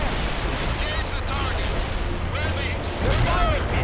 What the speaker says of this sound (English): They're firing at us.